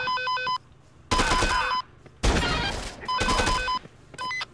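A synthetic phone ringtone in the video game Dead Rising 2 chimes in short repeating patterns, broken up by loud crashing bursts of gunfire and noisy game effects.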